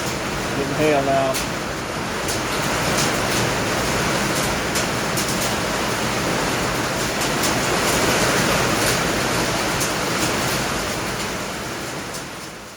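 Heavy hail and rain pounding an uninsulated metal cabin roof during a severe storm, a loud, dense, continuous roar with sharp scattered impacts that stays steady throughout.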